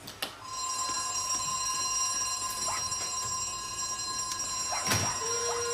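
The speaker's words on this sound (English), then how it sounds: "Sound the alarm" An alarm bell rings continuously, loud and near, with a steady ringing tone and a few sharp clanks and knocks around it, with no talking.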